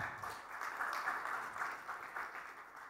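A studio audience at the Bigg Boss Marathi grand launch gives steady, moderately distant applause, a dense even wash of clapping that keeps going without pause and carries no speech.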